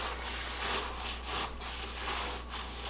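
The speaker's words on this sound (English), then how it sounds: "gonna go ahead and try to clean up cylinder walls, make sure there's no debris, whatever in there" Brake cleaner and blue paper napkins wiping the cylinder walls of an N54 engine block during a rebuild, a steady close scrubbing and rubbing with rhythmic strokes and no talk.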